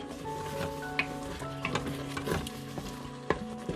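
Homestyle lamb curry bubbles and fries in oil in a cooker on its fry function, with a steady low sizzle, soft popping blips and a few sharp clinks of a spoon against the pot.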